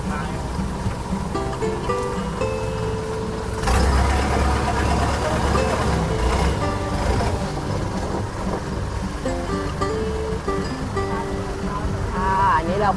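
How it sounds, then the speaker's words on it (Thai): A tour boat engine near Khao Chong Lom waterfall in Nakhon Nayok, Thailand, drones loudly and steadily throughout, with water noise and people talking over it. "เสียงเรือดังมาก"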